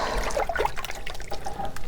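Water poured from an unheated winter-garden tank trickles and splashes in a close, continuous stream, brief and unaccompanied by talk.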